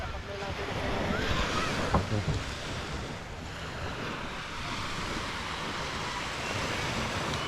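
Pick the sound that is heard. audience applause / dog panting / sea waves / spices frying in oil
sea waves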